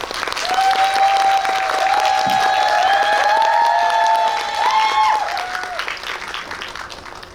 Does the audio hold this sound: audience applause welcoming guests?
yes